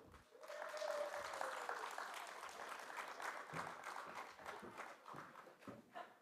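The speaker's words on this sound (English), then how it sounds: "Yes, please, a round of applause." A conference plenary audience gives a speaker a faint, distant round of applause, a soft scattering of claps with a brief tone near the start.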